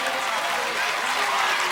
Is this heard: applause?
yes